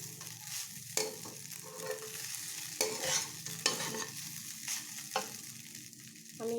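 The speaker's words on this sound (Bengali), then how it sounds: "একটু ভালোভাবে ভেজে নেব" Poha is fried in a little oil and stirred in a pan, giving a soft steady sizzle broken by repeated scraping strokes of the spoon, close and fairly quiet.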